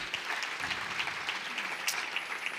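A church congregation claps together in a sustained, moderately loud round of applause that carries evenly throughout.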